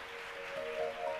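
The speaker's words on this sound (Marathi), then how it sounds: "आपण येशूच्या नावाला जोरात टाळ्या वाजवूया." A church congregation claps together in praise of Jesus' name during a service, a steady, even wash of many hands, fairly faint and distant, with a sustained musical tone humming underneath.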